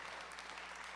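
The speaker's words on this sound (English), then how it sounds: "Please give a big round of applause for them" An audience claps steadily and warmly throughout at a student film festival awards screening in Michigan, a dense, even wash of applause with no voices on top.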